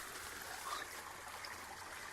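Faint, steady water trickles through old stone irrigation channels beside a restored water mill at the Inca ruins of Peine in the Atacama Desert, an even, soft flow with no other sounds.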